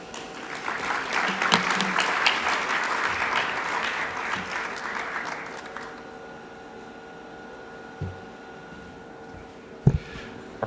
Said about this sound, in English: round of applause for all the speakers